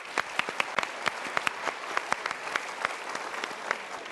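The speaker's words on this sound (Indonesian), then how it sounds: "Kita berikan tepuk tangan." A small audience claps steadily for a few seconds, a dense patter of hands with no voices over it.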